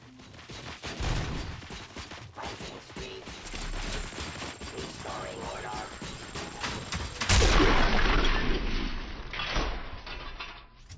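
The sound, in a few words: gunshots and explosions in the video game RoboCop: Rogue City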